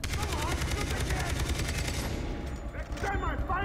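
Rapid automatic gunfire from the video game Far Cry 3 rattles in a dense, loud burst for about two seconds, then drops away to quieter game sounds and a final shot.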